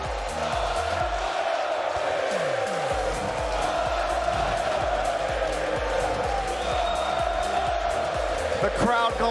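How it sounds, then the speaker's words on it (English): A large arena crowd at a Rocket League esports tournament roars and cheers wildly, a dense, sustained wall of noise with shouts rising above it throughout. "The crowd going absolutely bananas for Moist."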